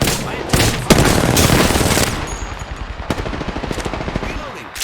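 Gunfire in Apex Legends: a dense burst of rapid automatic shots, loud and close, followed by a lighter train of quicker, evenly spaced shots trailing off.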